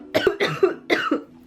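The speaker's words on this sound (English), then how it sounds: "I guess coughing my guts up all over you" A person coughs in a quick series of harsh, close bursts, about four or five hacking coughs over a second and a half.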